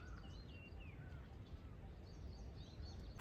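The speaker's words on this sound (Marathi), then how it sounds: "पक्ष्यांचा आवाज ऐकू शकता तुम्ही" Faint bird chirps and short whistled calls come and go over a soft outdoor hush on Taljai hill in Pune, scattered and distant.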